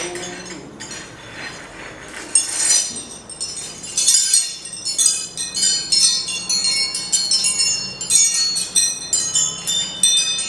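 Hanging wind chime received as a birthday gift, tinkling in the breeze with bright metallic rings that overlap and shimmer, starting sparse and growing into a near-continuous cascade of clear, sustained tones.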